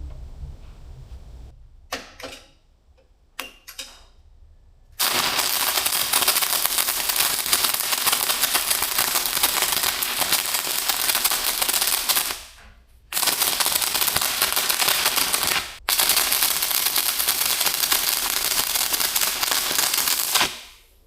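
A Sefaspe MIG 200 PRO welder runs in stick mode at about 150 amps, its arc giving long, loud, steady crackling hiss close by, broken by a few brief pauses after some short starting strikes.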